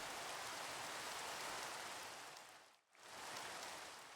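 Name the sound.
rain falling in the video game Minecraft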